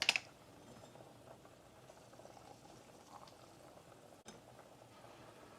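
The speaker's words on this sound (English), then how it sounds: "All right, we're back at the stove. They're both boiling." Pots boil on a stovetop with a faint, steady bubbling hiss throughout. A brief clatter opens the sound, and a soft knock comes near the end.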